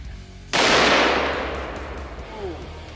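A single handgun shot firing 300 grain jacketed soft points outdoors by a creek, a sharp, loud crack followed by a long, slowly fading rumbling echo, with no talk.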